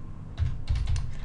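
Quick clattering keystrokes on a computer keyboard, tapped in a few short bursts, close and fairly loud with no voice over them.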